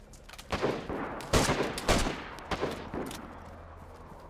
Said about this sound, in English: Where did I just get shot from?